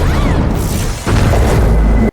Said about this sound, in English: How big is this explosion?